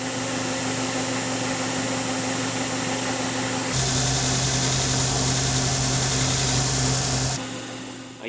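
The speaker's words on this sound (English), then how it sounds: "It's always grinding both metal and wood at the same time, never just the wood." A belt grinder runs steadily while shaping a faceted knife handle, grinding metal and wood together; the motor's constant whine shifts pitch midway as the workpiece presses on, then eases off near the end.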